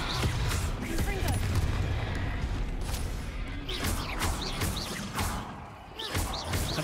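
Repeated explosive spell blasts in the Hogwarts Legacy video game, booming thuds and crackling impacts layered over busy combat effects with dense low rumble, continuous across the whole stretch.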